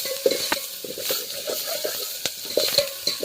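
Oil sizzling faintly in a pan while tempering is made for a tribal-style leafy greens curry, with soft stirring scrapes and small crackles running steadily throughout, close by.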